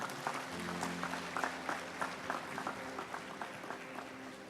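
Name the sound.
applause for Jesus at a church service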